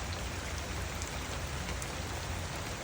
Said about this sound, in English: It was raining hard. I mean, it's raining really hard.